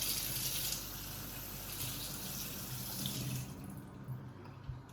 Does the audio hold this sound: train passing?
no